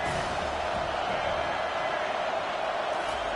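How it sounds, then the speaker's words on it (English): A stadium crowd at an American football game roars in a steady, continuous wash of noise, loud and unbroken throughout with no distinct peaks. "This crowd bringing the energy and noise early."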